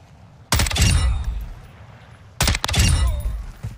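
Two loud bursts of rapid gunfire in Call of Duty DMZ, each a cluster of sharp cracks with echoing tails, separated by a short pause.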